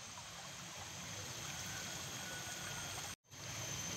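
A small stream running after heavy rain, a steady, fairly faint rushing and trickling flow with no voices, cut by a brief dropout near the end.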